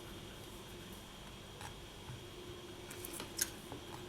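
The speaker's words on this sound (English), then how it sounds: "I just want to trim away a little bit of this cane." Scissors snip away cane on a field project, giving a few faint, short cuts over a quiet steady background hum, with no voices.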